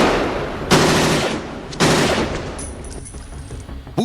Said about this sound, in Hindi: फिर दनादन फायरिंग शुरू हो जाती है